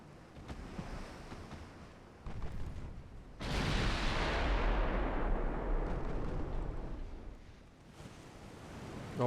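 A warship's main guns firing in a World War II naval battle game: one heavy blast that rolls and rumbles for several seconds, then fades back into a steady background of wind and sea.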